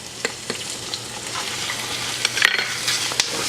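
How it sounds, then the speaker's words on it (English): Ginger and garlic fry in a pan for a spicy Szechuan green bean stir fry. A steady bright sizzle runs throughout, with scraping stirring strokes that grow busier toward the end. "All right, I'm going to add my spices. This is our ginger and our garlic. In it goes. Looks like a lot, but come on, stir around in there"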